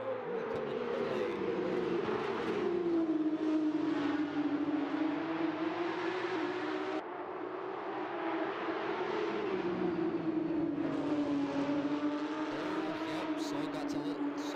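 Porsche GT3 RS race cars at Mugello, engines droning and shifting pitch as they run the long straight and brake, steady and moderately close, with commentary over the top.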